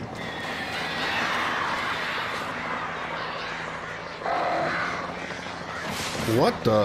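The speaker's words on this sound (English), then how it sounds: "Too many crows, dude. Too many freaking crows." Crows caw in the video game Alan Wake, harsh repeated calls over a dense game soundscape, with a person talking over them.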